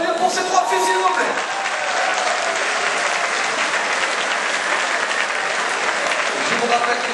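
A crowd applauds girls' race podium winners at a prize-giving for La Boucle du Confluent running event, dense sustained clapping throughout, loud and close, with some voices mixed in.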